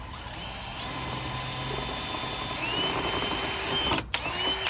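A power drill whirs steadily while boring a pilot hole for an LED trailer light, a faint, even motor whine that briefly cuts out near the end before restarting.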